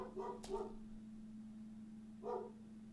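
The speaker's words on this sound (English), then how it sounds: "Sorry, my dogs keep barking." Two short bursts of dog barking, a quick pair of woofs and then another a moment later, fairly faint against a steady electrical hum.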